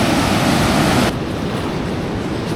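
Rushing river rapids on a foothills hiking trail make a loud, steady broadband roar that drops abruptly to a quieter rush partway through, with no talk.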